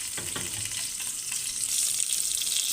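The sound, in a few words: meat frying in a pan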